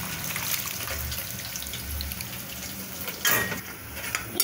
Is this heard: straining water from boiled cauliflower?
yes